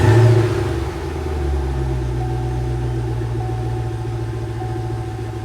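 A 2011 Chevy Camaro engine, just fitted with new spark plugs and wires after a P0303 misfire code, runs loudly at first and then settles into a steady, smooth idle rumble close by, with no talk.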